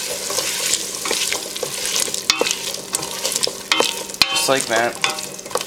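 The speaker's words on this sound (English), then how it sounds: "Give these a saute. Onions, chickpeas." Onions and chickpeas sauté in a pan with a steady sizzle and frying crackle, broken by occasional scrapes and clinks of a utensil stirring them; a voice speaks briefly near the end.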